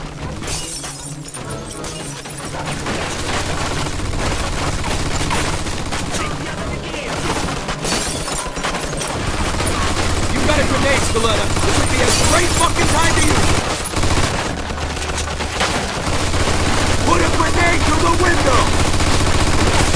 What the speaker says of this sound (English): Looks like we found a machine gun.